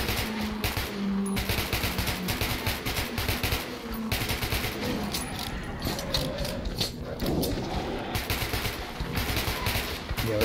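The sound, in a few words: gunshots firing at enemies in video game Metro 2033 Redux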